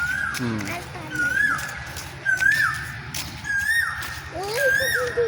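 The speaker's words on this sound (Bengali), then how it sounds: "ওই যে কোকিল পাখিটা বসে রয়েছে" A koel calls nearby in clear, rising whistled notes, repeated about once a second five times, over a low background murmur.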